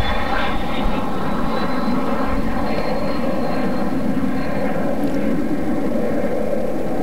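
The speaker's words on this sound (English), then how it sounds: "Bring the flaps back up, add power, and off we go again." A Fouga jet aircraft on a check flight adds power for a touch-and-go takeoff, its engine roaring loudly and steadily from start to finish.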